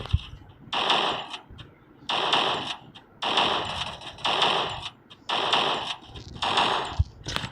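Gunfire in the Free Fire mobile video game comes as six rapid automatic bursts of about one second each, loud and close with short gaps between them, and a single sharp shot near the end.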